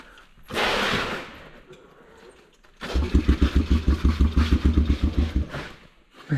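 Bombardier 125 quad engine cranks with a hiss, then catches and runs with a loud, rapid, uneven thumping idle close by.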